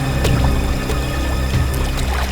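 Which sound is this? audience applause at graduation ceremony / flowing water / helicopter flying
flowing water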